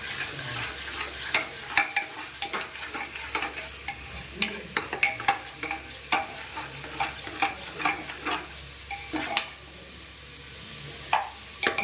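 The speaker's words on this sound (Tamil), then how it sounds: "ரெண்டு பச்சை மிளகாய், நல்லா வதங்கணும்." Two green chilies sautéing in a pan for mushroom biryani, a soft sizzle broken by repeated scraping stirs of a spoon at an uneven, steady rhythm, close and fairly quiet.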